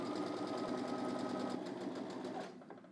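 A sewing machine stitches a pocket seam on a Know Me ME2142 garment, running in a steady, close, continuous whir with no talk before slowing and stopping near the end.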